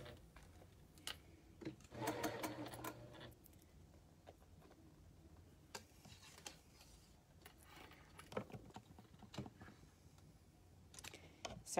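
A sewing machine stitches a feather leaf quilt block in one brief burst of fast running, with quieter clicks and handling noises around it.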